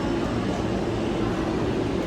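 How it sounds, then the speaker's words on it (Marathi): A train moving through New York, a steady low rumble and hum that holds at a constant level from start to finish. "आता मी पकडले ट्रेन चालू आहे दुसऱ्या स्टेशनला"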